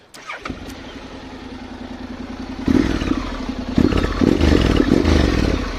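A Honda Integra 750cc motorcycle with automatic gearbox cranks and fires up, then settles into a steady, fairly loud idle with a throaty pulse, swelling louder with a couple of blips of the throttle, no talk over it.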